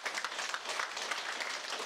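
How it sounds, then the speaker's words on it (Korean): A crowd claps steadily, a dense patter of many hands heard from a little distance. "박수 한번 보내주세요."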